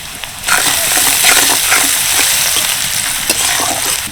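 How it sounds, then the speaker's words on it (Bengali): Salted onions frying in a pan give a loud, close, dense sizzle. Steady stirring adds soft scrapes and rustles throughout. "পেঁয়াজটাকে বেশ ভালোভাবে নেড়ে চেড়ে ভেজে নেবো"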